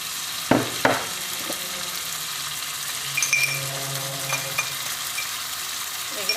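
Tomatoes are dropped into a hot pan for Kerala mathi pollichathu. A couple of sharp thuds and clinks are followed by a quiet, steady sizzle, with light stirring and utensil taps and no voices.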